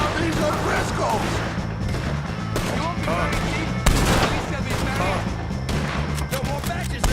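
Heavy gunfire in Red Dead Redemption 2 during a shootout with O'Driscolls: rapid, overlapping shots and cracks with a loud blast midway, mixed with shouting voices and a constant rumbling backdrop.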